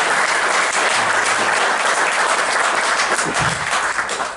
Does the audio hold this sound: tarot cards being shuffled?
no